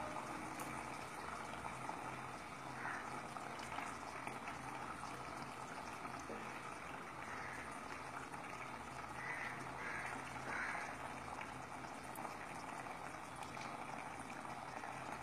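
Tomato chutney simmers gently in a pan on a gas stove, giving a soft, continuous bubbling with small irregular pops, quiet and close, with no talking.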